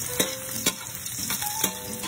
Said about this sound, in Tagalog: Pagpupulahin-pulaan natin yung bawang para mabango